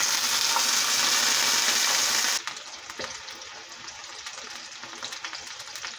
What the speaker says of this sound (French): Cuire le saumon